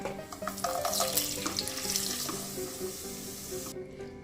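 Cashew nuts fry in coconut oil and ghee for biriyani, producing a bright, continuous hissing sizzle with a few soft clinks before it cuts off abruptly near the end.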